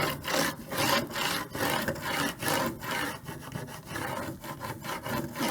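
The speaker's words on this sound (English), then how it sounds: "I can smooth this design onto my wooden board. And I can use my scraper." A plastic scraper rubs back and forth across adhesive vinyl laid on a wooden board, giving a steady close scratchy swishing in repeated strokes with no talk.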